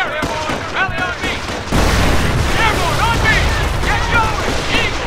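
Explosions and gunfire from the World War II strategy game Company of Heroes as German forces pound a forward emplacement: a dense, continuous battle roar of booms and shots, with game voices calling out over the din.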